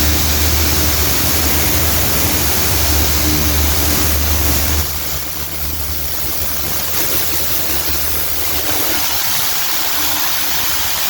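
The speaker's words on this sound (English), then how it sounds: "And then go over it again with the air compressor." A steady, loud rush of compressed air blowing across a car interior during detailing, continuous broadband hiss that dips slightly midway then carries on without talk.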